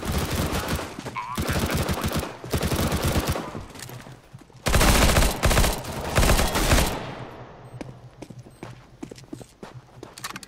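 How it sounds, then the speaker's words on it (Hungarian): Bursts of rapid gunfire from the video game CS:GO, loud and dense in stretches, with a heavy sustained volley in the middle and sparser scattered shots toward the end, with no talk. "Ne lövöldözzétek már egymást,"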